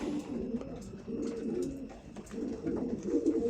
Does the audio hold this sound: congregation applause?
no